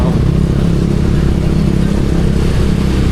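An ATV engine revs hard with a dense, buzzing mid-range drone and rattling clatter, loud and continuous at close range throughout.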